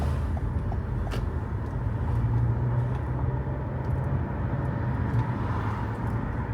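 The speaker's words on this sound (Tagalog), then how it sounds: "Medyo traffic na dito sa town ngayon ng konti" Town road traffic on a weekday morning in Canada, heard as a steady, dense rumble of passing cars and engines with a low drone underneath, continuous throughout with no speech.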